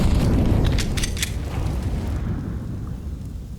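A grenade goes off on the Inferno map in a CS:GO professional match, a deep booming blast with crackling debris that rolls on and fades over a few seconds, close and loud.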